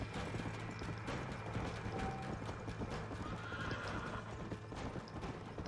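Horse hooves clip-clop steadily in the Western video game Red Dead Redemption: Undead Nightmare, with occasional neighs and mechanical clicks over a constant dense background of game ambience.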